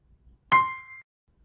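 A single bright electronic chime from a barcode scanning app, played when a row is saved, rings out alone, a short tonal ping with a few ringing harmonics that fades after about half a second.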